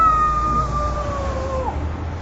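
A voice imitates the eerie noise of a radiator under a window, producing a sustained, wavering wail that slides slowly downward and fades over about two seconds against a low background hum.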